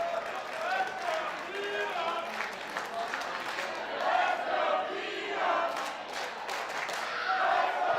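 Wrestling crowd at a Relentless Wrestling event cheering and clapping for Keita, a continuous mid-distance roar of voices with chants and applause, under commentary.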